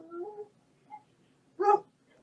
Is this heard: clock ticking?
no